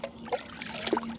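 Boiling milk for kesari is poured back and forth between vessels in a village kitchen, giving soft gurgling trickles and splashes over a low steady hum, close and fairly quiet.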